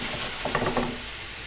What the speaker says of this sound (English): I think I'm just going to keep sauteing this a little bit more.